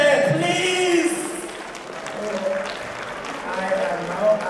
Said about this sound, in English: Please, you need to clap to that.